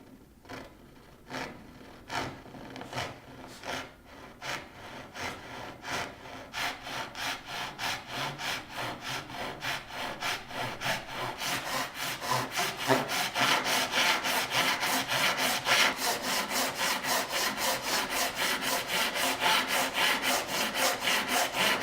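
A hand saw with a spring steel blade and cherry handle cuts through wood in steady back-and-forth strokes, slow and spaced at first, then quickening into a fast, loud, continuous rasping rhythm, close and alone.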